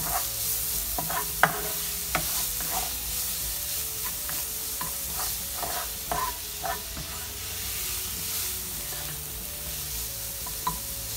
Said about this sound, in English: So just fry them until they change the color.